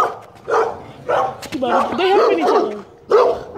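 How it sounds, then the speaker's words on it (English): Dog barks and yips in short bursts among friends hanging out, mixed with whimpering, while people talk close by throughout. "Oh, he gonna bark there?"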